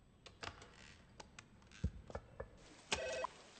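A telephone rings in an office setting, its short electronic trill rising after a few soft clicks and taps like keys, faint and close with no talking.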